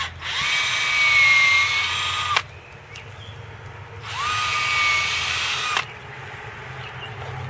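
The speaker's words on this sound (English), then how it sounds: "I'm going to drill right here." Power drill boring into the bark of a tree trunk for inoculation, two sustained whining bursts of about two seconds each with a brief pause between, loud and close, with no talking.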